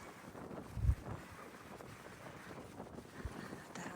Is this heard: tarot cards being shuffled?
no